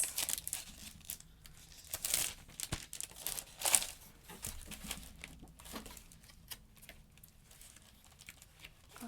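Paper crinkles and rustles as craft sheets and card stock are handled, with irregular bursts of crackling, louder around the middle, close by and with no talk.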